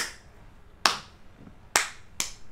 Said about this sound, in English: If you love Capo Caco, clap your hands.